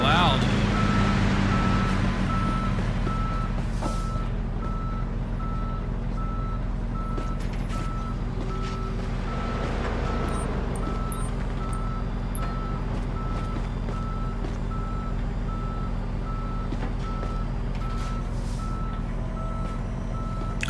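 A tow truck's reversing alarm beeps in regular evenly spaced pulses in the video game Police Simulator, over a loud steady diesel engine rumble that continues throughout.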